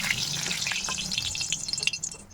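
Bengali chili chops (lonkar chop) deep frying in hot oil, with a close bubbling sizzle and quick crackling pops that grow busier toward the end, with no voices.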